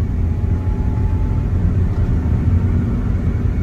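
Mitsubishi Chariot with a 4D68T engine, rescued from a scrap yard, cruising at around 30 to 40 mph: continuous loud low engine and road rumble with steady wind and tyre noise, no voices.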